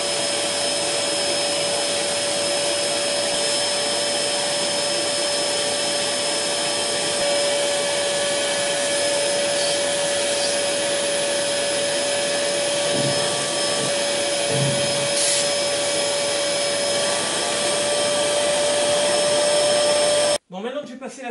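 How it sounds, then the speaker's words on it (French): A vacuum cleaner sucks sand out of the body sills of a Citroën Traction 11B through holes drilled in the bodywork, a steady loud motor whine running unbroken for about twenty seconds before cutting off abruptly at the end. "maintenant que j'ai passé l'aspirateur par les trous, les orifices que j'ai fait dans la caisse"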